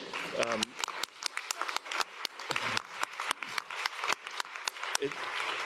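Audience applause at an open science monitoring launch event, a dense run of many close hand claps forming steady clapping throughout, with a brief voice or two faintly under it.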